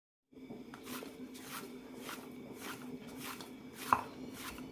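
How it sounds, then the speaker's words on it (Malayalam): Poori dough for a milk poori breakfast being kneaded by hand, a steady soft rhythm of squishing, slapping presses heard close up and alone, with one sharper knock near the end. "ഇനി വെള്ളം ഒഴിക്കണ്ട നന്നായി കുഴച്ചെടുക്കാം"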